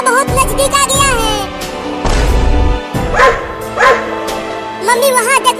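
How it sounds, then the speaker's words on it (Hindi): Cartoon dog barks and yelps aggressively in short bursts while a chase unfolds, mixed with animated voices and music; loud and close throughout. "और तेज भागो मम्मी, कुत्ता बहुत नजदीक आ गया है।"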